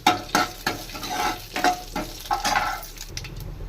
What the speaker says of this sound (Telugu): 1/2 స్పూన్ జీలకర్ర, ఒక చిన్న ఎండుమిర్చి, కరివేపాకు వేసుకొని బాగా ఫ్రై చేసుకుందాం ఫ్రెండ్స్